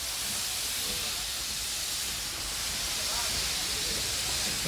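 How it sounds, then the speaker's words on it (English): A heritage steam locomotive stands at a platform, releasing a loud, unbroken hiss of steam that holds steady throughout with no clear breaks or chuffs. "This loco was going to use its power to haul our train around the Cambrian coast."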